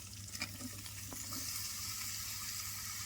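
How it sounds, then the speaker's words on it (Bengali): Eggplant and potato frying together in a pan, a steady soft sizzle with faint stirring sounds, quiet and continuous with no talk. "বাগুন আলু একসাথে বাজা"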